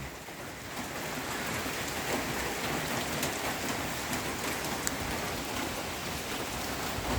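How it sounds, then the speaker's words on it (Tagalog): Steady, dense rain pours outdoors in stormy typhoon weather, a continuous close hiss of drops on surfaces with scattered louder splats and no talking. "maulanin na panahon. Kasi mayroon daw bagyo."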